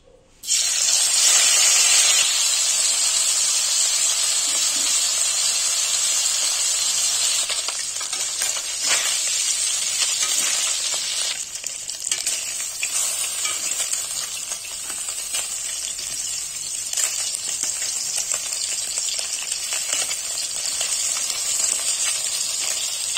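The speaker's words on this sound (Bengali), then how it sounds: "তেল গরম হয়ে গেছে, এবার মাছগুলো ভেজে নেব।" Small puti fish sizzle and spit steadily in hot soybean oil in a kadai, a loud, dense frying hiss that holds for over twenty seconds with only slight swells and no voices.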